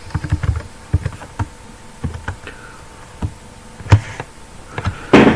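Typing on a computer keyboard while writing Excel VBA, a sparse series of close, sharp key clicks with irregular pauses and a louder clatter at the end.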